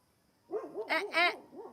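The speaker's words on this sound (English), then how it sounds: "With a side note of barking." A dog barks and yelps repeatedly in quick bursts, close by, with higher-pitched yips in the middle.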